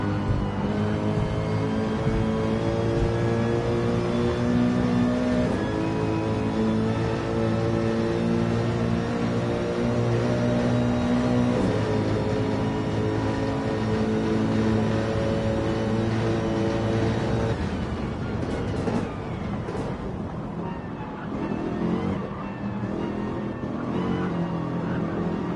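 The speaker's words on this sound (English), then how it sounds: "Let's have a listen to that engine purr all the way around." A race car engine in Gran Turismo 7 drones loud and steady throughout, its pitch climbing and dropping through gear changes and turns, with a rougher, shifting stretch near the end and no talking over it.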